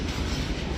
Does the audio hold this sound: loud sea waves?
no